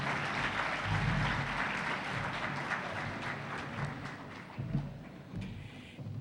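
Audience at an international constitutional law congress applauds invited speakers; a soft, fairly distant clatter of clapping that thins out toward the end.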